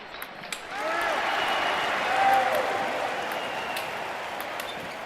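Crowd applause and cheering swell in a London 2012 Olympics video game during a table tennis match, a dense, steady roar that builds and then eases slightly, with a commentator's voice over it.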